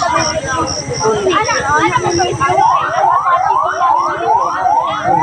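An ambulance siren wails in repeated rising sweeps, loud and close, while people talk nearby at the scene of a multicab that fell into a ravine in the Philippines.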